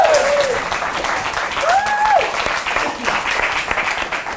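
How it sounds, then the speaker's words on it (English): A loud burst of crowd applause fills the whole stretch, with a few whistles cutting through the steady clapping. "Give them a round of applause."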